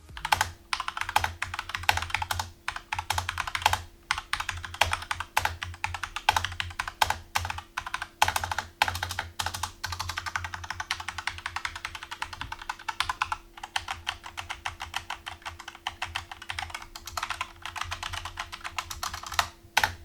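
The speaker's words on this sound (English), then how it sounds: "As for the clicky sounds most mechanical keyboards make, the QX2s are relatively on the quiet side, but here's a quick sound test for you" Steady typing on a SteelSeries Apex M750 mechanical keyboard with QX2 switches, a rapid, fairly quiet stream of keystrokes with occasional louder clacks, continuous and close with no talking.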